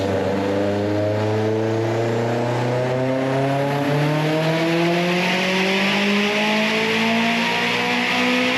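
Turbocharged car revving hard on a dynamometer at a dyno day, engine note sweeping steadily upward in pitch with layered harmonics, loud and continuous with no talk.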